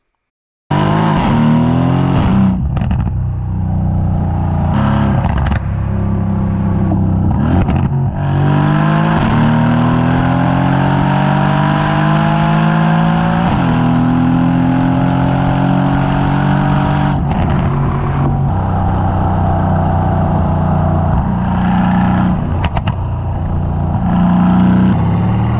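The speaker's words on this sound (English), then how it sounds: "There will be 30 seconds of unapologetic C63 exhaust notes" Mercedes C63 with a resonator delete, revving loudly and close for about 25 seconds, its exhaust note rising and falling through repeated throttle blips and sustained high-rpm pulls, with no voices over it.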